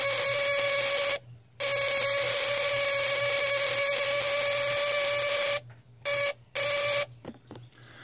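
A buzz coil ignition system on a homemade potato gun rattles out a loud, harsh electrical buzz, steady at first, then chopped into short bursts separated by brief silences.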